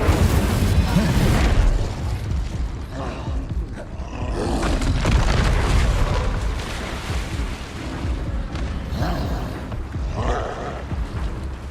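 Incendio fire spell cast in Hogwarts Legacy, a rushing roar of flame with bursting, popping blasts rising and falling across a dense, loud game soundscape.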